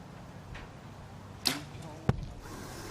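Two arrows strike a target at a compound archery mixed team and individual final at the Berlin 2019 World Cup, each a sharp distinct thwack, the second slightly louder, over quiet crowd ambience.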